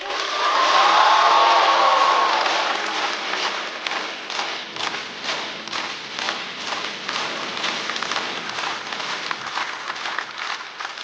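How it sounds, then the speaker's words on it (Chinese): Studio audience at a stand-up comedy show breaking into loud, sustained applause for comedian Wang Ying, dense clapping that swells at first and then carries on evenly for several seconds. "掌声欢迎王颖"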